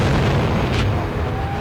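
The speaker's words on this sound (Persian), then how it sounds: "ناگاه از آن انفجاری مهیب برخاست" A huge explosion sound effect depicting the Big Bang is heard as a deep, loud, continuous roar that rumbles steadily with no voices over it.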